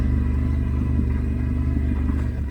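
New motorcycle idling with a low, steady engine burble, a close, continuous throbbing rumble alone without speech.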